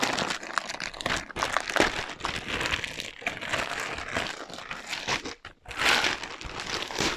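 Plastic wrapping comes off a newly unpacked Canaveral dartboard package, loud close crinkling and crumpling in irregular bursts with brief pauses and no voice.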